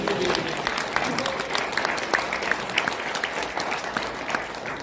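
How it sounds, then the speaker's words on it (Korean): An audience at a public hearing on open primaries at a press centre claps on cue: dense, continuous applause from many hands, fairly loud and even throughout, with a few louder individual claps and light voice noise underneath. "동의하시면 박수 한번."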